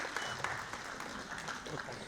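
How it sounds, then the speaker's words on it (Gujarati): Applause greets a guest at a parent training session, with a crowd of hands clapping in a steady, moderately quiet patter from start to finish. "જોરદાર તાળીઓ સાથે આપણે સાહેબશ્રીનું અભિવાદન કરીએ છીએ"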